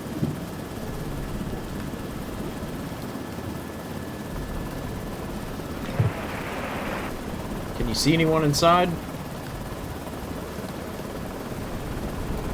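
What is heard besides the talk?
helicopter flying in the video game Lazaret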